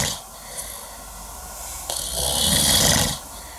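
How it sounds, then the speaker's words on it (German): A man wearing a nasal strip snores in his sleep at night, with a steady, close, rasping breath that builds into a long, loud snore. "Und schnarcht."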